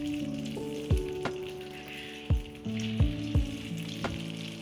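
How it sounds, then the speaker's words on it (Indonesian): Perkedel potato fritters coated in beaten egg fry in hot oil, giving a steady close sizzle with occasional sharp clinks of a utensil and no talk. "dioleskan kepada perkedel tadi dan kemudian digoreng"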